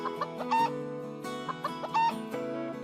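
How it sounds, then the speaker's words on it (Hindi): A cartoon rooster clucks in short bursts of several clucks, loud and close, over a steady cartoon music bed with no talk. "छोटू को सड़क पे एक मुर्गा दिखाई देता है।"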